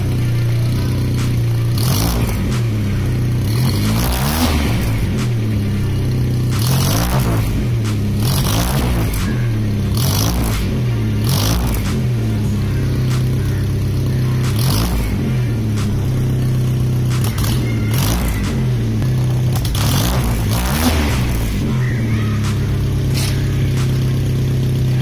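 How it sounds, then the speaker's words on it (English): An old Contessa car's engine running after startup, a steady low mechanical drone broken by repeated revs that rise and fall every few seconds, close and loud with no talking. "I'm going to fire the engine and let you hear the noise that this car makes"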